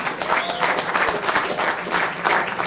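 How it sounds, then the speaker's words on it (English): Steady applause from a comedy show audience welcoming a guest comedian, a brief burst of many hands clapping at moderate volume with slight swells. "How about a round of applause for our special guest comedian?"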